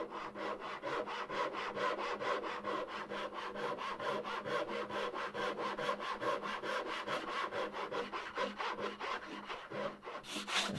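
A hand saw in a miter box cuts fret slots into a wooden banjo fretboard, producing a steady, rapid series of rasping back-and-forth strokes, close and even in rhythm throughout.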